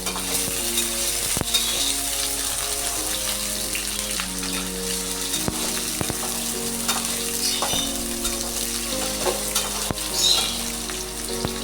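Potato pieces fry and sizzle in hot oil in a pan for a jackfruit-and-prawn curry, with steady crackling and occasional scraping stirs and clatters of a spoon, close and continuous with no talk.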